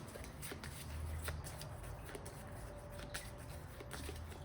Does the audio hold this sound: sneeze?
no